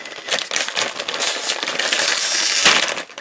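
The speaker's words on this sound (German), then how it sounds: "das Öffnen der Tüte fällt einem natürlich sehr, sehr schwer" Crinkly plastic rattles and scrapes close up as a Freche Freunde snack bag is tugged and opened, with dense, uneven crackling bursts throughout.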